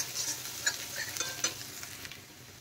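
Green chillies fry lightly in a pan, a soft, close sizzle broken by a few sharp clinks and scrapes of stirring, with no voices.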